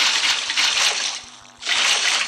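Water sloshes and rushes in bursts as it floods a villager's house in Minecraft, dropping briefly to a quiet trickle before surging back loud and close.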